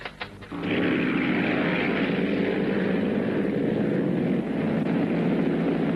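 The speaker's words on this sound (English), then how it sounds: "speaking from the plane Miss Daily News" A propeller airplane drones steadily in flight, a loud continuous engine roar heard from inside the cabin that settles in after a brief crackle at the start and holds without talk.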